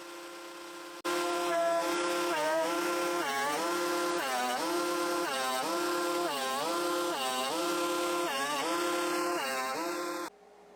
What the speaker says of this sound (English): Now I'll run the entire piece through the planer multiple times to get everything flat.